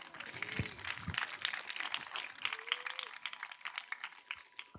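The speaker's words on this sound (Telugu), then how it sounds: "అందరు గట్టిగా చప్పట్లు కొడదాం" Loud, steady clapping from a church congregation at a village prayer meeting in Manikonda, continuous and dense with a few faint voices mixed in.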